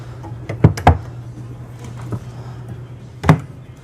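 Several sharp wooden knocks and clicks of cabinet doors being opened in a 2023 Newmar Super Star 4059 motorhome, two close together, then a pause and another thud, over a low hum.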